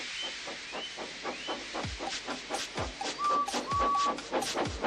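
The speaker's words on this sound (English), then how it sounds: "So they lit his fire, made lots of steam, and Edward puffed away." Rhythmic steam puffs from a locomotive chuff in a steady beat, with faint whistle-like tones and a hissing wash behind them.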